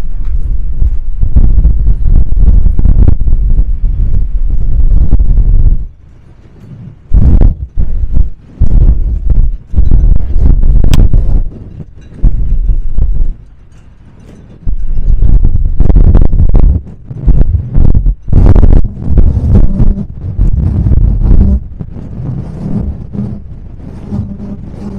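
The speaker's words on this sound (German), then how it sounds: "Ist eine steife Brise hier!" Strong sea wind on the Normandy coast at Saint-Aubin-sur-Mer buffets the microphone with heavy, low rumbling gusts, loud and close, dropping out briefly between bursts, with no talking.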